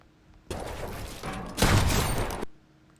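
Gunfire sound effect in an edited clip: a dense, rattling burst of rapid shots that starts abruptly, swells louder halfway through, then cuts off sharply, loud and close with no voices.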